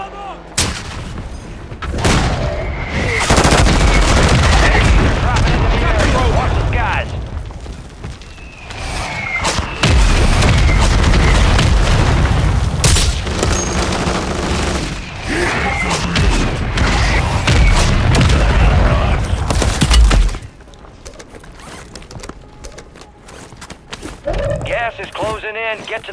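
Heavy gunfire and booming explosions in a Warzone 3 battle, loud bursts and thuds for much of the clip before dropping to quieter sounds near the end, with game voice callouts mixed in.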